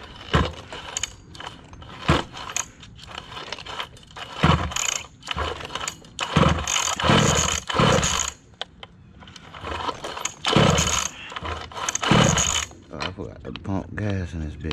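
A Zenoah 34cc gas engine on a Losi 5T RC car is cranked by its pull starter: repeated close, ratcheting mechanical pulls and clicks in uneven bursts, with the engine not catching.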